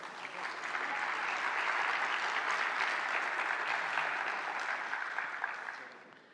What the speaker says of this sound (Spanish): Le brindamos un fuerte aplauso, por favor.